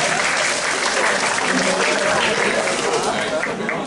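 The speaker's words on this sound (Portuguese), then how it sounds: "Eu vou aplaudir essa resposta aí" An audience at a public lecture on the first photograph of a black hole breaks into loud, continuous applause that fills the whole moment, with voices mixed into the crowd noise.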